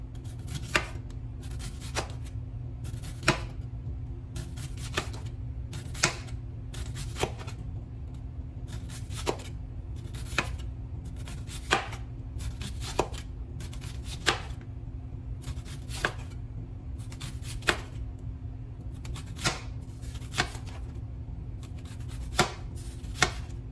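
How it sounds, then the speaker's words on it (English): A knife slicing an onion on a cutting board while a cheesy potato and beef roll is prepared, a steady run of sharp, evenly spaced chops close up over a low background hum. "I'm going to go ahead and slice up my onion."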